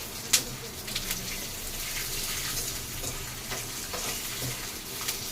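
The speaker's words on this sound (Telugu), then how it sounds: "కరివేపాకు బాగా పెళ్ళలాడేటట్టు వేయించాలి" Curry leaves fry in oil in a pan with a continuous soft, crackling sizzle, quiet and close, and a sharp pop near the start, with no voices.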